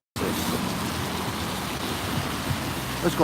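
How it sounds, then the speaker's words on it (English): Car driving through deep water at a road level crossing, a continuous loud hissing splash of spray that swells sharply at the very end, with faint traffic behind. "I just got splashed by that car."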